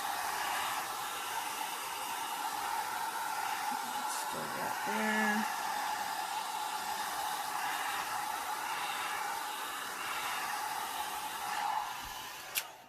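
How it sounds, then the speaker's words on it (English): A hair dryer blows with a steady, even whoosh throughout, drying alcohol ink on paper. A person speaks briefly over it partway through. "I shouldn't talk while the dryer is on"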